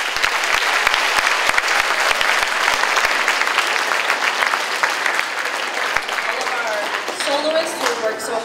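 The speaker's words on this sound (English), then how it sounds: "Another round of applause for them, please." An audience at a school winter chorus concert applauds loudly and steadily, a dense wash of many hands clapping close by. A voice starts speaking over the fading clapping near the end.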